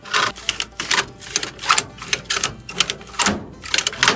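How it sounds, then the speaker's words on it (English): A ratchet tow strap is cranked tight by hand, giving a quick run of sharp, close clicks in uneven bursts with brief pauses between strokes. "And you just crank this thing down till it can't crank no more."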